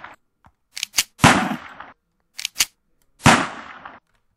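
Gunfire from a modded gun in Minecraft, a few sharp, close, loud shots in two quick clusters, each followed by a longer crackling burst, with no talking.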